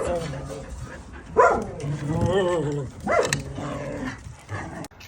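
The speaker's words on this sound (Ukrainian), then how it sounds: "Тут також мешкають два песики" Dogs barking at an animal shelter, several loud bark bursts and a longer whining bark close by, mixed with people talking throughout.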